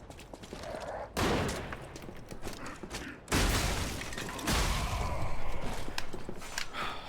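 Gunfire in the Lies of P video game: sudden loud bursts of shooting, with a couple of sharp onsets and a longer sustained volley, set against mechanical clatter and footsteps.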